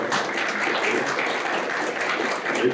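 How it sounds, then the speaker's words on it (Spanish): Audience applause at a panel event on the role of Peruvian women, a brief, dense burst of many hands clapping, steady and fairly loud for under three seconds. "Muchísimas gracias, María del Carmen, por darle un aplauso a ella"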